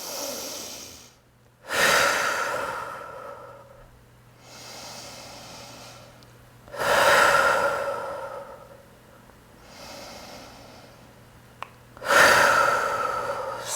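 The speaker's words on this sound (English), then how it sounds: "Let's take 3 breaths here." Slow, deep yoga breaths come close to the microphone as long airy inhales and exhales, about three full cycles spaced evenly, each swelling and fading softly.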